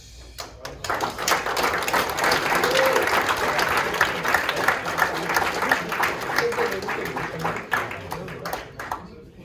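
Applause from a gathered crowd, rising quickly to a full swell of clapping and then thinning into scattered claps, with some voices mixed in.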